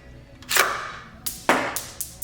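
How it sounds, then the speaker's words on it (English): Sharp dry clicks of a shotgun's firing pin dropping on a snap cap, interleaved with the clack of the action being worked, several distinct metallic snaps spread over a couple of seconds, close and fairly loud. "Hit the snap cap."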